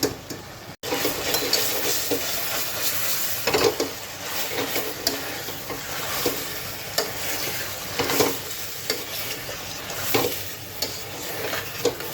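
Chicken korma sizzles steadily in glossy hot oil in a pan, a continuous frying hiss with occasional stirring scrapes, close and fairly loud throughout with no talking.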